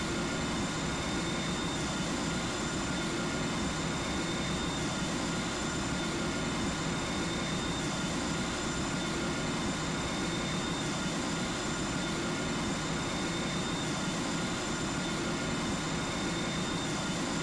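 A Virgin Atlantic A350-1000 in the GeoFS flight simulator powers up for takeoff, giving a loud, even jet roar with a steady whine and no break.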